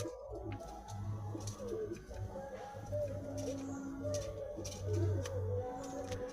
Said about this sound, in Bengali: এটা ছেলে পায়রা,